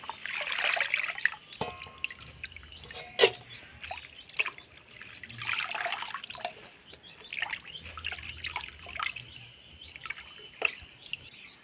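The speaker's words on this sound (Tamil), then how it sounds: "இது போல் தண்ணியில் போட்டு நல்லா அலசிக்கங்க மண் போக" Water sloshes and splashes in bursts as coriander leaves are swished around in a bowl to rinse off soil, with drips and trickles between, close by and fairly quiet.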